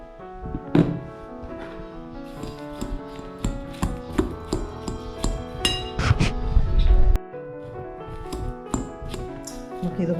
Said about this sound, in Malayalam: ഇത് ഈ കൂട്ടത്തിലിട്ട് നമുക്കൊന്ന് ഫോർക്ക് കൊണ്ട് ഇളക്കാം.